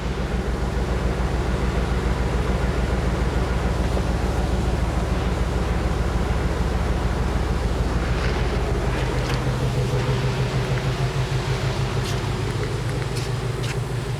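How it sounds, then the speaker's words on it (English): An AC compressor runs with its clutch engaged in a mid-engine LS-swapped hot rod, giving a steady loud low drone and rumble throughout, with the pitch shifting slightly partway through. "I heard the clutch kick on the AC compressor."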